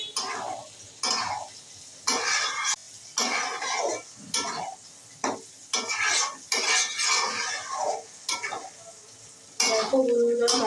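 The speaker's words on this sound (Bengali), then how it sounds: "এবার ভালোভাবে মাছটার সঙ্গে মিশিয়ে নেব।" Stirring small Bombay duck fish with potato and eggplant in a pan after adding turmeric, cumin and coriander powder: repeated short scraping and clinking strokes of a spatula against the pan, close and fairly loud, with no talk.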